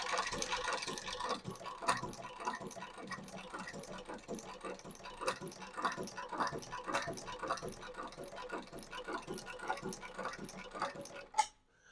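Rapid mechanical ticking and clattering of a shoe repair sewing machine with a large bobbin running in short bursts, close and fairly quiet, ending with a sharp click.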